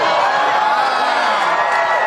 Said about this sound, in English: Having it get dimmer, everybody starts cheering.